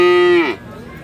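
A cow at a livestock market lets out one loud, close, steady moo that drops off and ends about halfway through, followed by quieter market background.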